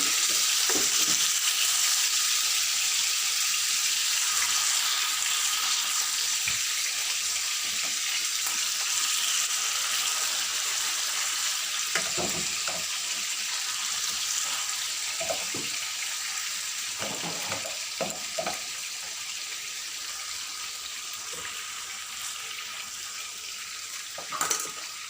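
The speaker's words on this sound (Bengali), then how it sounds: "যেদিকে মাছটা ভেজে নিলাম" A piece of fish fries in a pan, a continuous bright sizzle that slowly softens, broken by several light scraping stirs and a clink near the end, with no one talking.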